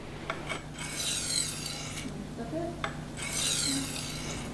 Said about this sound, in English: If the edge is dull, start sharpening on a medium stone